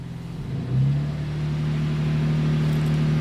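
A car engine running an automatic service function climbs to a raised rev and holds a steady, droning hum, loud and close, with a brief rise just before one second and no talking.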